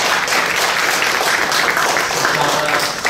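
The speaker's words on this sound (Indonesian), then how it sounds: "Berikan aplaus dan tepuk tangan kepada PT Bukit Asam Persero." An audience at a public-service award event applauds PT Bukit Asam Persero, dense continuous clapping that stays loud and even throughout, close and filling the whole moment.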